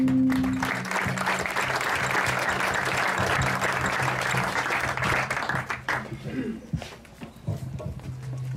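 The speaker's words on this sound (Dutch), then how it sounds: "graag een hartelijk applaus voor Ronald Boon en Jan" Audience applause at the opening of a new tennis park with padel courts in Hardenberg, a steady crowd clapping for several seconds before thinning into scattered claps and murmuring voices.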